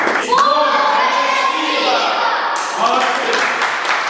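A group of children applauds at a boxing class in a city sports complex, steady close clapping with voices mixed in throughout.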